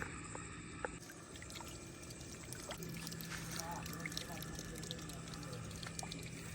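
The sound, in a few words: water flowing through pipe from motor pump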